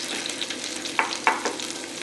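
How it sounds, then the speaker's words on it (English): Chopped garlic sautéing in two tablespoons of sesame oil over high heat for sweet potato vermicelli pancit with bacon; a steady close sizzle with a couple of sharp utensil stirs and clinks, no voices. "add 2 tablespoons of sesame oil. Add the remaining chopped garlic."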